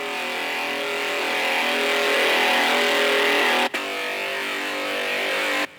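A sustained, bright synth pad from the Energy instrument in Vintage Vault 4, holding a dense, buzzing tone with stacked harmonics at steady level before cutting out abruptly, with one brief dropout midway.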